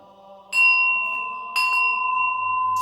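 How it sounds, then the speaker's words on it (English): A vintage bronze sanctuary bell is struck twice. Each strike gives a bright, sustained metallic ring that slowly decays, and a third strike begins just at the end. "Next up, we have a sanctuary bell."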